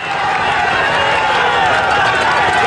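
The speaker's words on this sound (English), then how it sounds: "he deserves every little bit of the applause he's getting here" A dense, loud roar of a large roadside crowd cheering and clapping at a Giro d'Italia cycling stage, continuous and unbroken throughout, with voices blended into the din.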